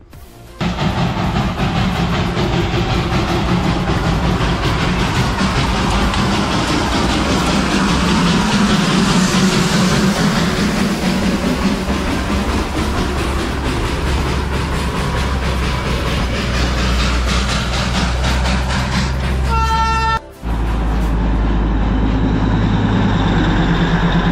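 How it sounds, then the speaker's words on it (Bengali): The Darjeeling narrow-gauge toy train rumbles by close up with a steady, loud roar and rhythmic clatter for over twenty seconds, followed by a brief horn-like tonal burst near the end. "দার্জিলিং টয় ট্রেন অনেকটা নিচে নেমে যায়।"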